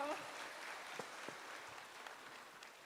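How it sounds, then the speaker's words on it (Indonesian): Applause from a graduation ceremony crowd at an institute of technology and business in Palembang, a steady diffuse wash of many hands clapping at a moderate distance, with a brief voice at the very start. "Tepuk tangan dulu dong"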